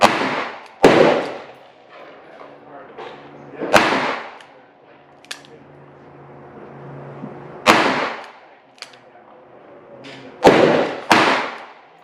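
Twelve rounds of Lee 358-148-WC wadcutter loads fired in a row, sharp loud gunshot cracks spaced a second or more apart with quieter outdoor background between shots.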